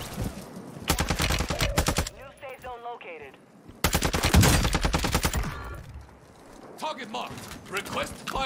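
A mounted turret machine gun in Warzone 2 fires long rapid bursts, loud and close, separated by gaps where someone speaks.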